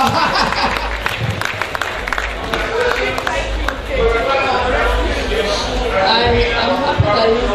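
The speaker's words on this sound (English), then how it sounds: "a round of applause for her" An audience at a public speaking event applauds, a steady wash of many hands clapping that holds throughout, with voices and murmurs from the crowd mixed in.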